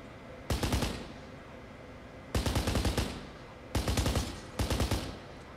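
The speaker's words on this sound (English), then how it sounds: "they are shooting with machine guns they too!" Automatic machine gun fire in the video game Kane and Lynch, heard as four loud bursts of rapid shots, each about half a second to a second long, spaced irregularly across the stretch with quieter game ambience between.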